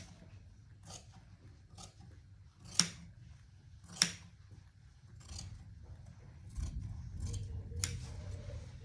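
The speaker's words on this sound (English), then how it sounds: "So now I'll be cutting out my pattern." Scissors snip through fabric while cutting out a sewing pattern, giving a series of separate crisp cuts spaced about a second apart, quiet and close, with no talking.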